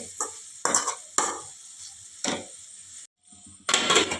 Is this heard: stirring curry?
yes